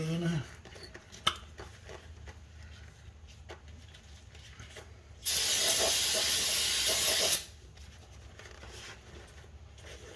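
Brake cleaner sprayed onto the flywheel of a 2001-2005 Honda Civic during clutch work: a single loud, close aerosol hiss lasting about two seconds, with faint handling noises before and after.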